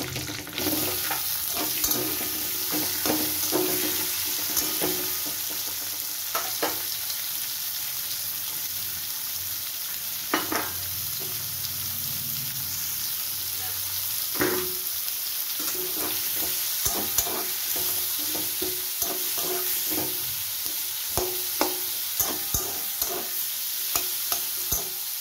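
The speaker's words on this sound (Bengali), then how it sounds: "পেঁয়াজটাকে 5-6 মিনিট ভেজে নেব ব্রাউন কালার করে" Onions frying in oil in a wok, a steady loud sizzle throughout with scattered scraping clinks of a spatula stirring and a few sharper knocks, close by.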